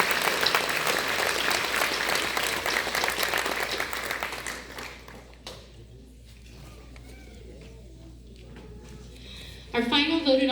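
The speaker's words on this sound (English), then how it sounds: "A big round of applause to these kids." School concert audience gives students a round of applause, dense and loud at first, fading out after about five seconds into a quiet room before a voice resumes.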